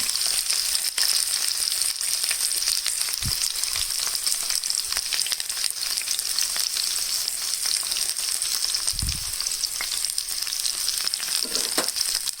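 Green chilies fry in hot oil alongside chopped onions, a steady loud sizzle throughout with a couple of soft knocks from the pan, no talk.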